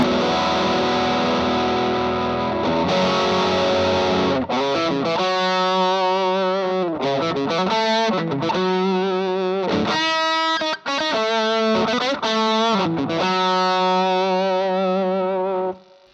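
Electric guitar through an Earthquaker Devices Dunes overdrive pedal (TS808-inspired), saturated and crunchy, with strummed chords whose individual notes stay distinct, played alone with steady loudness.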